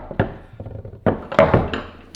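A tool knocks dents into a guitar body to give it a worn, relic look, making several sharp wooden thunks at an irregular pace, close and fairly loud.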